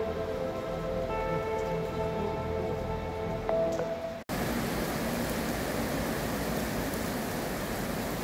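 Heavy rain pours down steadily during a motorcycle trip, a dense continuous hiss of drops on surfaces, loud and close, with a brief sharp cut midway before the downpour resumes just as strong.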